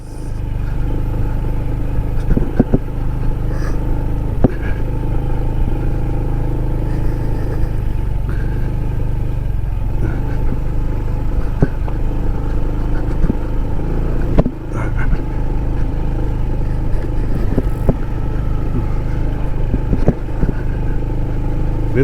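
A Honda ADV 160 scooter rides cross country over rough terrain, its engine droning steadily and close with wind noise and occasional knocks and bumps. No speech is heard.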